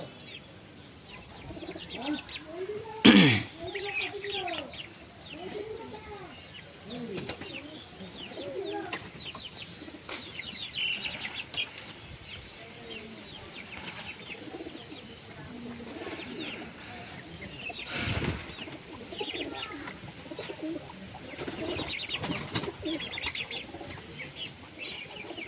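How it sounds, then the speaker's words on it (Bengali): A female pigeon coos in soft repeated phrases outdoors, with a sharp burst of wing flapping near the start and another rustle later, other bird sounds faint around it. "মাদি পায়রা হবে।"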